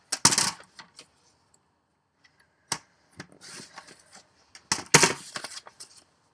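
Paper being trimmed for a handmade flower card, a few sharp close snips and clicks in short clusters separated by quiet gaps.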